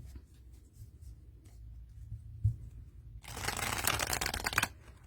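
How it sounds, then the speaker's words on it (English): A brief pause, then a burst of riffle shuffling as a deck of tarot cards rapidly flutters together for about a second, close and crisp. "a lot of people don't like to riffle shuffle their cards"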